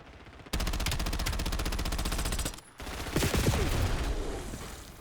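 Automatic gunfire from a weapon in a first-person shooter video game, a loud, continuous rapid burst lasting about two seconds, a brief pause, then more shooting mixed with other game sounds.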